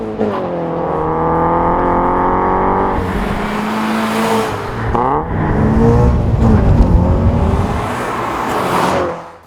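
A Toyota 86 fitted with a 3-inch XFORCE stainless steel exhaust revs loudly, its engine note climbing and falling in sweeps, then pulling into a rougher, louder surge before cutting off.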